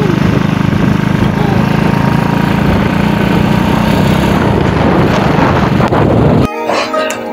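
A motorcycle engine rumbles and buzzes steadily up close for several seconds, then cuts abruptly to quieter background, on a road in Negros Occidental, Philippines.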